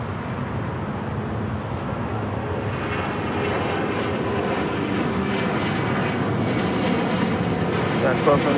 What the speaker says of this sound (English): Next takeoff is the flight to Cancun, United Airlines flight 1276, the 737-900 ER